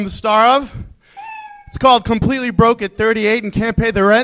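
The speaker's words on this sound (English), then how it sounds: "And I think that's the cat." A cat gives one short, thin meow in a brief pause between stretches of someone talking into a microphone on a comedy podcast.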